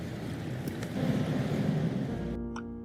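The Spokane River rushes in heavy spring flow beneath a bridge, a broad steady roar of water with some wind buffeting on the microphone, continuous and fairly loud with no talking.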